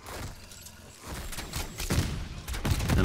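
Rapid gunshots fired at a mega abomination in a Call of Duty zombies game, a dense, rattling burst of blasts building in loudness over a few seconds, heard alone.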